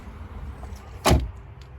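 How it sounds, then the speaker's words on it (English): A rear barn door on a Mini Clubman 1.5 Cooper Exclusive unlatches and swings open with one sharp thud and a brief mechanical clunk, close, over a low steady background hum. "we've got these sort of unusual barn doors at the back"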